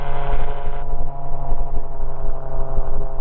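A gyroplane engine drones steadily in flight, a loud, continuous hum with a slight pulsing flutter and no talk.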